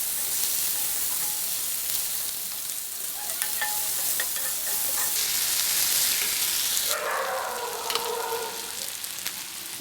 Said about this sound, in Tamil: இப்போ வந்து ஒரு மீடியம் சைஸ் தக்காளி, அதையும் சேர்த்து நல்லா வதக்கிக்கோங்க.